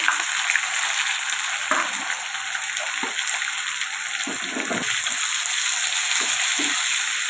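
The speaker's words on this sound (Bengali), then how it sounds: "জিরে দুটো গোটা দিয়ে দিলাম পেঁয়াজ দিয়ে দিলাম" Onion and whole cumin frying in hot oil, a loud steady sizzle with occasional stirring scrapes throughout, no voices.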